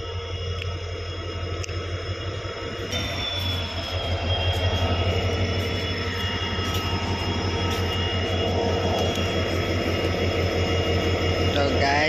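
A passenger train stands at a station between Moran and Guwahati while its engine is changed, giving a loud, steady idling rumble with a high whine that rises partway through.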